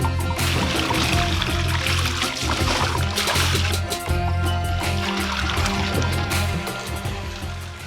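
Elephants drink and splash in water, a continuous loud sloshing and trickling with rushing spray that stays steady throughout.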